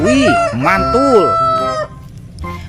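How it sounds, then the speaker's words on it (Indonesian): A toy rooster gives a loud electronic cock-a-doodle-doo with bright, tonal, warbling notes that stops abruptly, and a voice briefly exclaims afterward. "Ini ada ayam berkokok."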